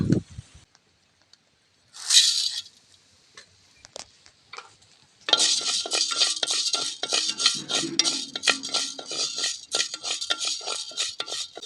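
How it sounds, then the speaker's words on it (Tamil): Horse gram dry-roasting in a pan, a busy dry rattling and scraping of the seeds against the metal under steady stirring, loud and close after a few isolated clinks and a brief louder burst. "கொள்ளு போட்டு வறுத்துக்கலாம்"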